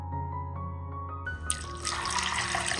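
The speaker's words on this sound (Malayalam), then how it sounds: "ഇതുപോലെ നിറച്ച് വെള്ളം ഒഴിച്ചിട്ട് വേണം കുതിർക്കാൻ വെക്കാൻ വേണ്ടിയിട്ട്" Water runs from a tap into a bowl of sago being filled for soaking, a steady splashing pour that grows brighter and fuller midway as the stream hits the water, with no talk.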